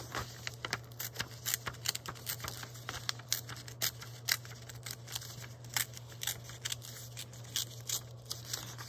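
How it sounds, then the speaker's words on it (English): Paper is torn by hand during craftwork, making a shabby chic cover from two envelopes: quick, sharp ripping and crinkling bursts repeat in a loose rhythm over a steady low hum, fairly faint and with no voices. "It's really easier to tear the paper when you have a good piece of paper to remove."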